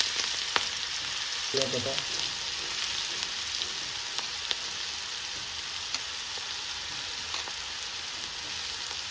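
Finely chopped onion added to hot oil with asafoetida sizzles in a pan while poha cutlets are being made. A steady, even frying hiss runs throughout, with a brief spoken word early on and a few faint stirring clicks.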